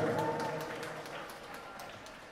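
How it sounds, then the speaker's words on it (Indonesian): Applause from a crowd at an Islamic elementary school graduation ceremony in Indonesia, a steady patter of many hands clapping that starts fairly loud in a hall and slowly fades, with no talk over it. "tepuk tangan buat Ananda Damar."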